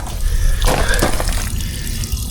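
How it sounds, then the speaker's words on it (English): Water hisses and splashes steadily from a leaking hose fitting, a close, continuous spray with a brief gurgling burst partway through. "Okay, water's moving through this, but I do have a leak."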